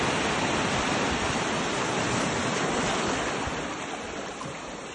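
Waves break and rush up the beach at Saint Martin Island, Bangladesh, a loud, steady roar of churning surf with wind noise, fading a little toward the close.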